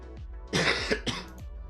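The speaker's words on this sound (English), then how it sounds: "My apologies for the coughing there." A few sharp coughs in quick succession, close and clear, with brief pauses between them.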